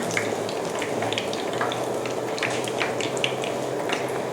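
Banana pieces fry in hot oil until golden, a close, steady sizzle with constant crackling and popping and no talk.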